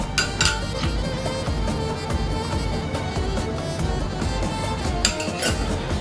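Metal utensil scraping and clinking against a pot while a rice mixture is stirred for Arabic stuffed chicken, steady continuous scraping close up with no talk.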